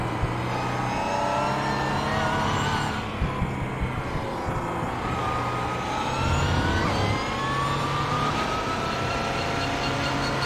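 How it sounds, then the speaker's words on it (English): Onboard engine of a sim race car at Sebring, whining and revving steadily under boost as it accelerates through gears, loud and continuous with shifting pitch throughout. "I love these onboards because you can listen to how he's using the boost"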